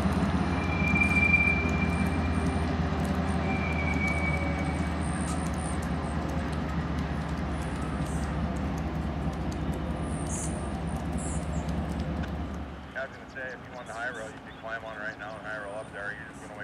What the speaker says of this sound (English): the two work trains, who were dumping ballast around the area yesterday, depart the yard to begin their day's work